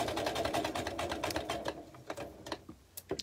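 Close sewing machine stitching a backstitch on fabric for a tea caddy, a rapid steady mechanical chatter that slows and breaks into a few separate clicks and thumps toward the end.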